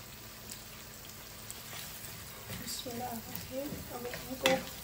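Chickpeas and mixed vegetables fry over medium heat, a soft steady sizzle that grows busier partway through as a spoon stirs and scrapes the pan, ending in a sharper clatter close by.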